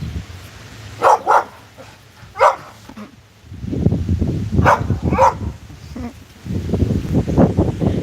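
Puppies barking in short, sharp yips, a few isolated barks followed by faint rustling and shuffling movement nearby, with a person talking at times.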